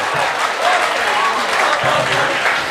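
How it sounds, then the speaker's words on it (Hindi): Dense audience applause at a poetry recital fills the whole stretch, steady and loud without pause, with faint voices mixed into the crowd noise. "पुरजोर तालियों से इस्तकबाल करें दोस्तों।"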